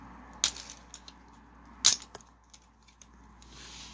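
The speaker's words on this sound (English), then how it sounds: "That's just the guns popping off, because mine don't stick in that well" Small plastic guns snap off a Transformers Bumblebee studio series toy figure, producing two sharp, close clicky pops about a second and a half apart, with a few lighter plastic taps in between in an otherwise quiet room.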